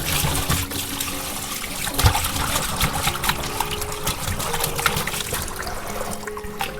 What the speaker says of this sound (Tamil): ஒரு 5-6 தண்ணி ஊற்றி கழுவணும்.